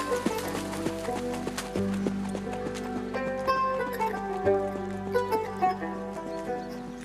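Diego, a horse, trots with a rider, his hooves beating a steady clip-clop close by under a continuous backdrop of music, with no talk.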